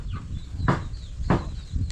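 Chickens and young chicks clucking on a farm, with two short, louder clucks standing out over a steady low backdrop of softer fowl sounds, fairly close and with no talking.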